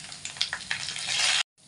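A tempering of spices, peppercorns and dried red chillies sizzles and crackles sharply in hot oil for katte pongal, with a few pops before cutting off abruptly.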